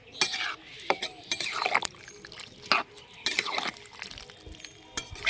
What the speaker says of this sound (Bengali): আর একটু সামান্য পরিমাণে জল দিয়ে দিচ্ছি।